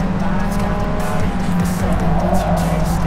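A Toyota AE86 race car in Forza Motorsport brakes into the first corner and crashes, with loud continuous engine roar, tire squeal and skidding; a voice is also present.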